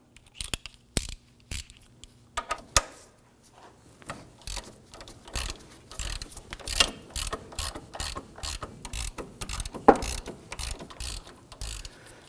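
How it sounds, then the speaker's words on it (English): A ratchet with a 15mm socket loosens the rusted outer tie rod nut on a 2008-2011 Ford Focus, making sparse clicks that become a quick, steady ratcheting run, close by. "We want to loosen this upper nut here for our outer tie rod."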